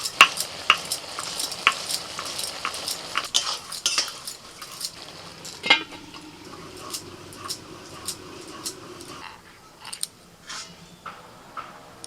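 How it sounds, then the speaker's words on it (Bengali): A spatula stirs bottle gourd and shrimp in a pan, giving repeated metallic clinks and scrapes in an uneven rhythm over a soft simmering hiss, close and moderately loud; no voices. "একটু করে নাড়াচাড়া করে দিচ্ছি আর কিছুক্ষণের জন্য ঢাকা দিয়ে দিচ্ছি"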